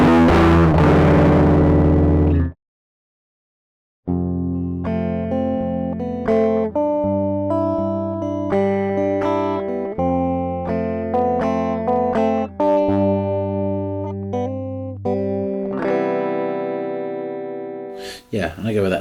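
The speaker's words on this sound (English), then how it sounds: "choose the level based on how much distortion I want" A distorted electric guitar, recorded 60s-style on 4-track cassette tape, rings out a chord, falls silent briefly, then plays a series of sustained, fuzzy notes and chords with a saturated, gritty tone.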